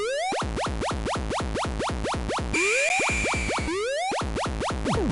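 Early SNK arcade shooter in the style of Space Invaders, with a rapid, regular stream of harsh electronic bleeps and descending zaps, plus a sustained whistling tone in the middle, loud and continuous.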